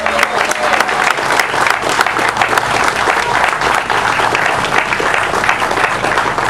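An audience at an outdoor swearing-in ceremony applauds with sustained, loud clapping from a crowd close by, lasting steadily without a break.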